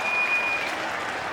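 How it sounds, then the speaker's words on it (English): A crowd at a 2004 AFL football match between Carlton and the West Coast Eagles roars and applauds in a dense, sustained wash of cheering from a large stadium. "Walker, listen to the crowd"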